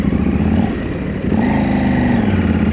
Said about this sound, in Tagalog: Yan, medyo matraffic na.